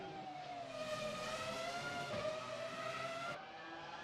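A McLaren race car in a racing video game laps Interlagos, its engine holding a steady high whine that rises slightly before an abrupt drop in pitch as it shifts or brakes.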